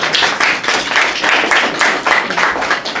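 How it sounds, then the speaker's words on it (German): Audience applause at a Q&A panel during the CosDay² 2014 convention: dense, steady clapping from a crowd, close and fairly loud, sustained for about three seconds with no voices. "Ein Applaus."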